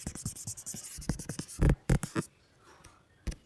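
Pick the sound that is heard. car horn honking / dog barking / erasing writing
erasing writing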